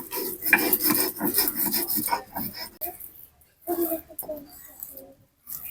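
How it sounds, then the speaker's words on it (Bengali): Mustard seeds, green chili and salt ground on a grinding stone for mankochu bata, a close rasping scrape in repeated strokes with brief pauses between bursts. "লবণটা দিয়ে আরেকবার ভালো করে বেটে নিয়েছি"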